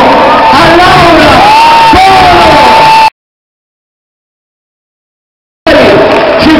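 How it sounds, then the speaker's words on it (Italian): A beach-party crowd at a San Benedetto del Tronto concert cheers and whoops for the singer, loud and close in a dense wash. It breaks off into a gap of silence, then the cheering resumes. "Un applauso"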